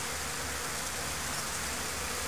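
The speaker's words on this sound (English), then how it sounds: "There is a lot of bees going in with pollen, which is good, with big pollen baskets" Honeybees drone at a hive entrance as foragers fly in carrying pollen. The buzz is a dense, steady hum that fills the air close by and does not let up.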